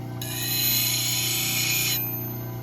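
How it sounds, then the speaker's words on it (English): Steady whine of a wood lathe spinning clear maple, with a bright sustained scraping hiss as a skew chisel cuts a bead freehand for about two seconds, close and loud over the motor hum. "And I'm doing my Beading also. I'm going to do that freehand."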